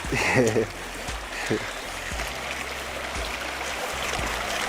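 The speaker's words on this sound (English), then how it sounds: "this little stream here flows from the mountain and turns into a river which flows into the Indian Ocean" A small mountain stream trickles steadily on Mount Kilimanjaro's Machame Route, a continuous soft flow heard close by, with a voice talking briefly at the start.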